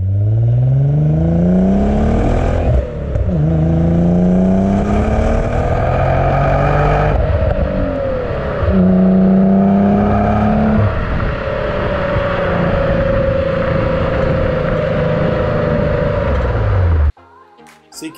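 A car engine under full throttle, revving up through the gears with rising and falling pitch sweeps, loud and close for about seventeen seconds before cutting off abruptly.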